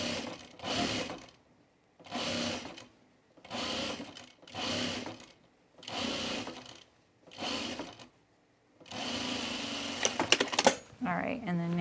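A sewing machine stitching V-neck coat pieces right sides together runs in six short, even bursts separated by pauses, then one longer run ending in a few clicks, close and fairly loud.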